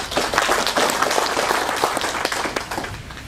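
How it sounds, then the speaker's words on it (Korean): Audience applause at the 16th Nogunri Peace Prize award ceremony, a dense, loud burst of many hands clapping continuously, close and steady before tapering slightly. "박수를 보시겠습니다."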